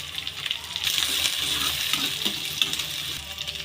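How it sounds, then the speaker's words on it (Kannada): Green chilies, onion and curry leaves fry in hot oil for an egg curry, giving a dense, continuous sizzle close by with brief stirring taps throughout. "ಈಗ ಹಸಿಮೆಣಸಿಕಾಯಿ ಒಂದು 3 ಹಸಿಮೆಣಸಿಕಾಯಿ ಹಾಕ್ಕೊತೀನಿ."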